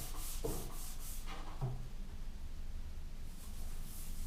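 A snowboard base being waxed with rub-on wax, a steady dry rubbing and scuffing in small circular strokes, close and continuous throughout, with no voices.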